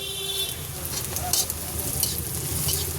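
Onion and crushed garlic fry in a pan, a close, constant sizzle with stirring scrapes over it and faint background sounds.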